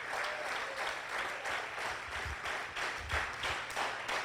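A church congregation applauds loudly during a sermon, a steady dense wash of many hands clapping together with a few pulsing swells, no voices standing out.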